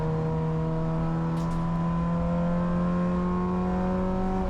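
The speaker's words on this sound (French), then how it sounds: "le son est incroyable de la voiture" Steady engine drone of a Peugeot 405 Mi16 BTCC replica race car lapping a circuit, a sustained even tone held at moderate distance with little change in pitch.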